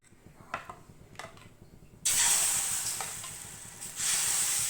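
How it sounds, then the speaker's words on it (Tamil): Wheat dosa batter hits a hot pan, and after a few quiet clinks a loud, bright sizzle bursts in and keeps going, swelling again near the end. "நல்லா மெலிசாக நம்ம வந்து தோசை ஊற்றிக்கலாம்"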